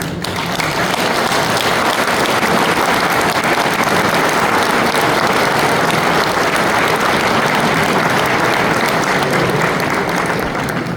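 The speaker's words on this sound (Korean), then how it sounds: "나오실 때에 큰 박수로 환영해 주시면 감사하겠습니다" Steady, loud applause from a large audience at a church convention, welcoming a speaker to the stage, continuous and even throughout with no voices.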